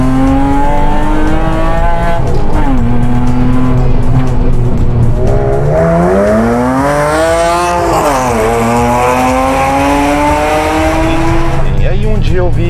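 A Porsche Cayman fitted with a 911 engine accelerating hard, its engine note climbing and dipping through gear changes with tires squealing, loud and close throughout.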